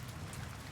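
Steady rain falls on a surface at night, a soft continuous hiss with dense patter, quiet and even with no voices.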